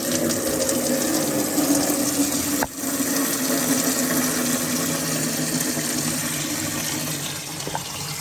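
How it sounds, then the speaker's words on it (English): A number 8 Silverline ratchet turns the drain point on a Vaillant EcoTec boiler, heard as a steady hiss of draining water with a sharp click near the three-second mark and another faint click near the end. "Now to drain the boiler, I always use this right here. It's a number 8 silver line ratchet."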